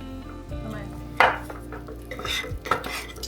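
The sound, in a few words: mixing sourdough with water in a bowl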